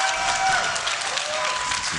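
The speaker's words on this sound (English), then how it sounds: "let me hear you cheer in the audience, cheer at home, cheer whatever you're doing. Make some noise for Fnatic if you want them to win." An audience at the 2011 League of Legends World Championship grand final, Fnatic versus Against All Authority, claps and cheers in a dense, steady wash of applause that fills the whole moment.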